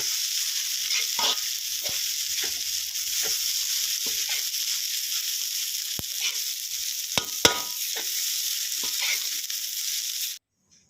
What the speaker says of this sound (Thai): แล้วก็ผัดให้นัวๆนะครับ ให้มันแห้งนะครับ